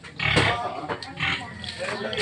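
Large pigs on a farm in Batangas grunt and oink in rough, repeated bursts close at hand, with people's voices mixed in.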